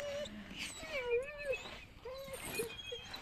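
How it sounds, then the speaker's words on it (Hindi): A dog in a village whimpers and whines in rising, wavering cries, with short repeated moans at close range over a faint background. "कुत्ता ही है"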